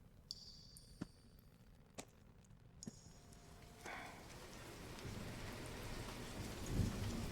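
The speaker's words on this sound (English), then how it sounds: "with the rain pouring down as it is, it's going to be very difficult to see" A thunderstorm with pouring rain, starting as sparse drips and knocks, then building into a steady hiss of heavy rain with a low rumble near the end.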